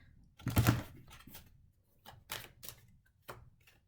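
Tarot cards are shuffled nearby in a few quick riffling bursts, crisp flutters separated by short pauses.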